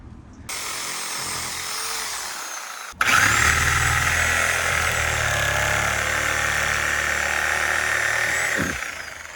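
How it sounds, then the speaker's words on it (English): A power saw starts up and runs at a steady high whine, briefly cutting out and restarting, as it cuts through a big tree branch near an exposed root system, loud and close with no talk. "That's where you need that power saw."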